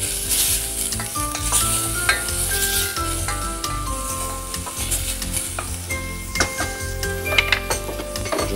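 Prosciutto fries in a pan for a pasta dish, giving a steady, close sizzle with frequent scraping stir strokes throughout and no voices.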